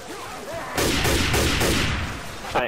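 Several loud hunting rifle shots in quick succession from the zombie shooter game Left 4 Dead 2, each a sharp burst with a ringing tail, fired close up amid steady game background noise.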